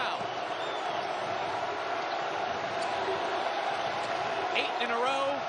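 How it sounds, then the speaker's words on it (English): Basketball arena crowd at an NCAA game between Central Florida and Baylor, a loud continuous roar and cheer building during a Knights scoring run, with an announcer's voice running over it and a few whistles and whoops on top. "Here comes the crowd."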